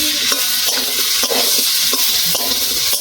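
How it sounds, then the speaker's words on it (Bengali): Fish being fried in a spice masala gives a loud, continuous sizzle and hiss, with rhythmic stirring scrapes repeating through it and no voices. "এবার মাছটা দিয়ে আমি আরো 10 মিনিট কষিয়ে নেব।"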